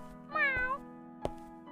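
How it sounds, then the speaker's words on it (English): A kitten gives a single high, wavering meow up close, followed by a sharp tap, over a quiet steady hum. "A kitten was crossing the street from the other side."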